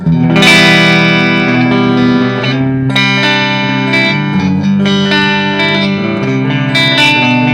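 Clean electric guitar played through a small practice amplifier, ringing chords and notes with sustained harmonics and a touch of reverb, loud and close with no talking.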